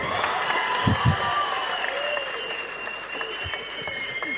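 Audience applause fills the hall at the Tamil film Nimirnthu Nil's audio launch, a dense, steady clatter of many hands that holds at an even level throughout, with a few louder bursts near the start.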